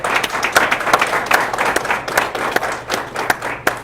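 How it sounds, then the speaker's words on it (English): A small audience at a financial literacy class for teens and young adults claps for two public information officers from Clark County, a lively spread of individual hand claps with distinct sharp strikes, close and fairly loud, continuing steadily without talk. "Give them a round of applause, Chris and Eric."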